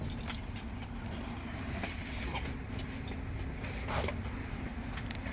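A continuous rumble and rattle from inside a moving train carriage in Finland, with faint clicks of wheels on the track and a steady hum throughout.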